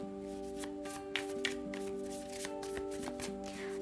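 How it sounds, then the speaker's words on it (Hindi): Tarot cards are shuffled in a series of soft, close riffling and tapping bursts over a quiet steady background hum. "तो चलिए शफल कर लेते हैं कर्क राशि कैंसर साइन के लिए"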